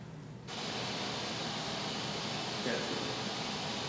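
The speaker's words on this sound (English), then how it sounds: "the courtroom deputy will initiate a bench conference mode in which white noise will fill the room" Steady broadband white noise from a courtroom masking system switches on abruptly and fills the room evenly, a constant loud hiss that continues without change.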